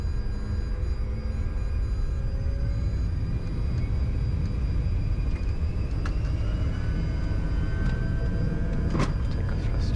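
Challenger 605 business jet engines spooling to takeoff thrust on the runway at Phuket, a loud, constant broadband roar with a steady whine, heard continuously from inside with no talk.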